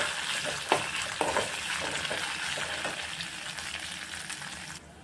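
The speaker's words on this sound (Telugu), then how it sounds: "ఇందులో 1/2 టీ స్పూన్ వరకు అల్లం వెల్లుల్లి పేస్ట్ వేసుకొని పచ్చి వాసన పోయేంత వరకు కలుపుతూ" Ginger garlic paste sizzles in a pan for upma, with steady frying crackle and a few sharp scrapes of stirring, fairly quiet and close, with no talking.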